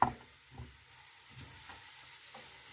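Soft, steady sizzling of spices frying in a hot pan, with a few faint clinks and stirring sounds, nothing else audible.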